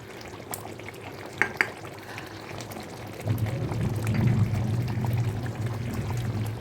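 Ghee goes into a pan of chicken roast, a couple of small clinks followed by a rising sizzle and bubbling as it melts into the hot gravy, close and steady, with no talking.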